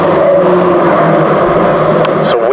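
Saloon stock cars race down the back straight at Cowdenbeath Racewall, a steady loud engine drone running throughout beneath a commentator's voice, with a brief rising whine near the end.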